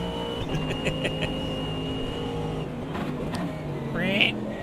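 A race car engine in the video game Automobilista 2 drones at steady pitch, then shifts with a brief rising whine near the end, fairly loud and continuous.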